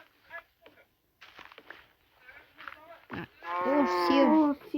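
A cow mooing in the video game Minecraft, one loud, drawn-out moo at the end, preceded by a few short, scattered sounds.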